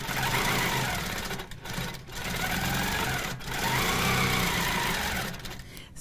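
Sewing machine stitching a quilt, running loud and close in steady bursts that stop briefly three times before starting again.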